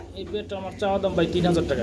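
A male pigeon coos nearby in a few low, rolling calls that rise and fall, heard up close without other clear sounds around them.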